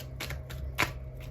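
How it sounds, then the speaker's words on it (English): A tarot card deck being shuffled up close, several short riffling bursts with one sharper flick, over a low steady hum. "My deck doesn't want to shuffle."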